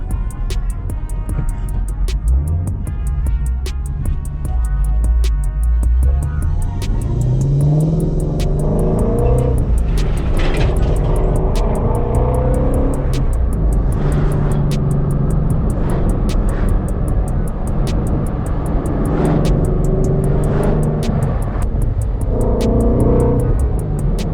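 A 2018 Ford Mustang Shelby GT350's exhaust echoes under a bridge, loud and close, with deep rumbling idle rising into repeated revs and throaty blips that reverberate off the concrete throughout.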